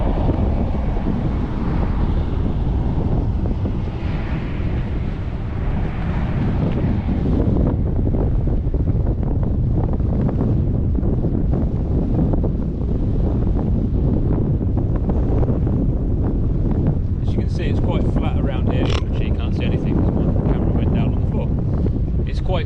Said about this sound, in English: this wind that I had was only like 30-35km/h just here